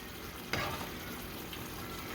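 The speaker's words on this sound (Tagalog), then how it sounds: "Haluin ang adobo." Adobo sizzling and frying in a pan while being stirred, a steady hiss with one brief scrape of the utensil, close and fairly quiet.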